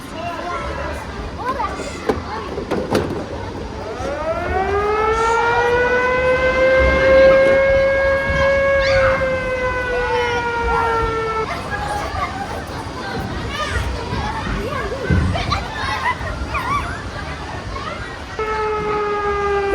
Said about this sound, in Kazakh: Сирена арып жатыр ғой